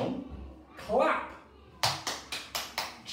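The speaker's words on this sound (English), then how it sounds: "Clap." Young kindergarten children in an English class clap hands together in a series of about six sharp, evenly spaced claps, preceded by a voice speaking.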